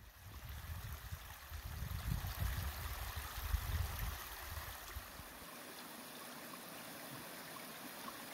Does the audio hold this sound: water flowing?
yes